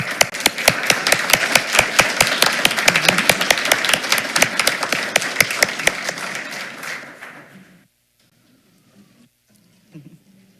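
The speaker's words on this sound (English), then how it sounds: "let's give her one more round of applause" Round of applause for an honoree at a school board meeting: loud, crisp clapping with distinct sharp hand strikes from a smallish group, fading out after about seven seconds into near silence with a faint sound near the end.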